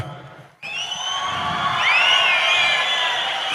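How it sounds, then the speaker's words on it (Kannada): Audience at a live comedy stage event breaking into loud cheering and crowd noise with whoops, sustained and rising for several seconds after a brief quiet start. "ಅಂತ ರೈತರಿಗೆ ಒಂದು ಜೋರು ಚಪ್ಪಾಳೆ ಕೊಡ್ರೋಣ"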